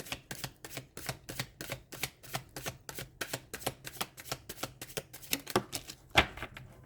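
Tarot cards are shuffled in a steady run of crisp riffling snaps, about three per second, close and fairly quiet, ending with a couple of sharper flicks as cards are drawn.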